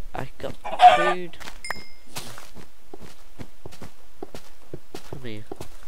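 Blocky Minecraft chickens cluck in a couple of quick bursts amid a steady run of soft game footsteps and clicks, close and moderately loud.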